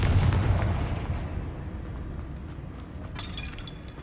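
In the Hogwarts Legacy video game, a Confringo spell lands as a loud explosive blast at the start, followed by a rumbling decay and scattered debris crackles that fade over a few seconds.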